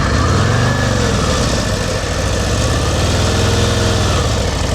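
Motorcycle engine running steadily during slow-speed riding practice as the clutch is eased out, a close, continuous low throb with a slight swell in pitch, no voices over it.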